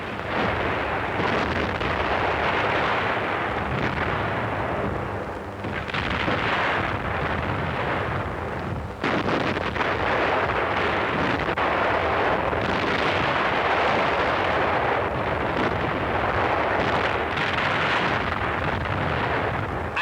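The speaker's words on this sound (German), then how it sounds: "Wo der Feind nicht weichen will, greift wieder Artillerie ein." Artillery fire from a wartime battle rumbles in heavy, dense booms and blasts that roll on continuously for twenty seconds, loud and without speech, in old newsreel sound.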